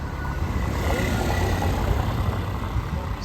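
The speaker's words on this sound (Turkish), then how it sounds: "Şimdi onlar motorla indiler babasıyla" A motorbike carrying a father and his child heads down toward the market, its engine giving a steady, continuous low rumble close by with no clear rise or fade.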